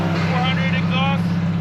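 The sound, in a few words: Subaru STI engine with aftermarket exhaust and titanium tip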